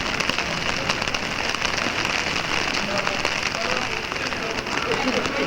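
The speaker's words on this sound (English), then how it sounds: "Yeah, I love the rain" Rain falling outdoors near the Colosseum in Rome, a dense, steady patter and hiss of drops hitting the ground and surfaces close by, with faint voices beneath it.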